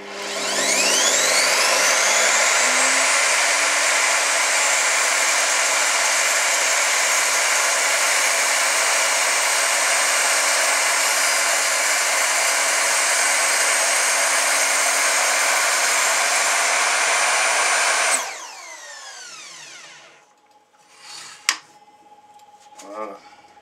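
A power saw cuts wood for a dowel-positioning jig, with a wooden block set in to keep fingers clear of the blade. It spins up, cuts loud and steady for about eighteen seconds, then runs down, followed by a few faint knocks.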